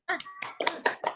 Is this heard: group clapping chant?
yes